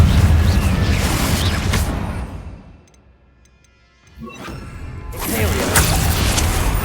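A Confringo spell blast in Hogwarts Legacy, loud crashing bursts at the start and again at the end around a short near-silent gap, broad and close.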